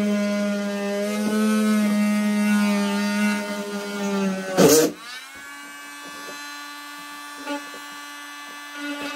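A Dremel rotary tool whines steadily as it cuts an opening in a boat hull, its pitch shifting under load, with a sharp scraping burst midway before the tone settles lower.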